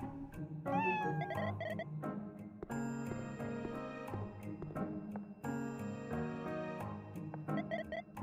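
A cat meows several times in the horror video game Blackout: clear, close meows come in short bursts over sustained game music.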